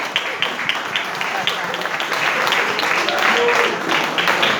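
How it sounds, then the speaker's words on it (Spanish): A church congregation claps loudly in praise, a close, dense burst of applause that swells toward the end while a voice speaks over it. "¿Cuánto le dan un aplauso fuerte al Señor?"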